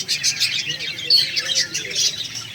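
Small birds chirp and tweet close by in a home setting, a busy run of bright, quick calls repeating throughout, with someone speaking softly underneath.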